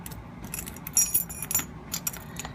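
Keys jangle from a Sargent lock display kit, a series of light metallic clinks and rattles coming in irregular bursts close by, with a low background hum underneath.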